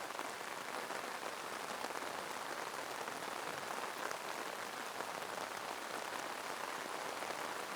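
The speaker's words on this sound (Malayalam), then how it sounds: "നല്ല കുഴപ്പമില്ലാത്ത മഴ പെയ്യുന്നുണ്ട്." Steady moderate rain in a village setting near a paddy field, a soft continuous patter of drops on surfaces, even and unbroken throughout with no voices.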